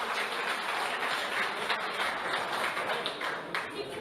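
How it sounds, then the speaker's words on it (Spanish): Supporters applaud at Le Pen's political rally, a dense and steady wash of clapping that holds at a fairly even level for the whole stretch without letting up. "Le Pen continuó con su presentación entre aplausos de sus simpatizantes"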